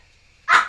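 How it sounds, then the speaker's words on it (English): A single sharp dog bark bursts in suddenly after near silence, loud and close. "Sorry about the barking in my videos."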